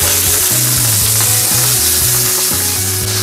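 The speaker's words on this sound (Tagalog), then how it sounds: "Lutuin lang po natin yung ating side ng chicken thai." Chicken thighs sizzle loudly and steadily in a hot pan, a continuous close frying hiss with no one talking.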